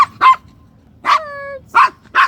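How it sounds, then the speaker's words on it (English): A dog barks near a ferry dock, three sharp separate barks with a drawn-out whining yelp between them, loud and close against a quiet background. "Why are you barking?"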